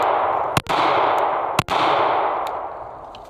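Pistol gunshots at an outdoor shooting range: two loud, sharp reports about a second apart, then a fainter one, over a steady rushing background noise with no voices.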